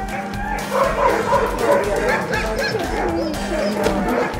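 A crowd of sled dogs at Denali National Park yipping, barking and whining excitedly all at once, a continuous chorus with some voices mixed in.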